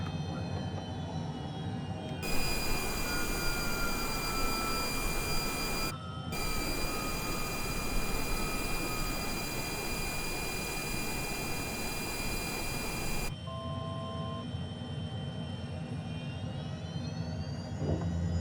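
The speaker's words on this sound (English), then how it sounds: "And we're going to drop our gear." A simulated HondaJet HA240 in Microsoft Flight Simulator 2020 lowers its landing gear on approach, a loud broadband rushing roar cutting in abruptly over the steady jet engine whine, briefly dipping, then stopping sharply and leaving the engine tone alone.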